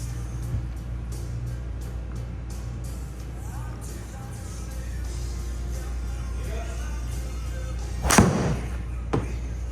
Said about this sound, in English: All right, let's hit tee shot on number 18 at Pebble Beach.